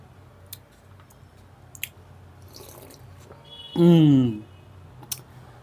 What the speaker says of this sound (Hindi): दोस्तों, मुझे ज़रा पानी पीना होगा।